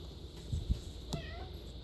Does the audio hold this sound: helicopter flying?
no